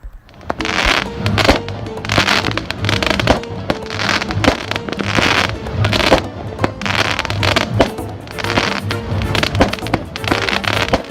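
Fireworks at a New Year's Eve beach celebration in Costa Rica, loud repeated bangs and crackling bursts in an irregular rapid series, with crowd noise beneath.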